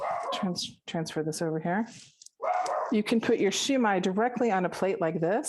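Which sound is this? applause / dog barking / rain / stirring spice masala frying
dog barking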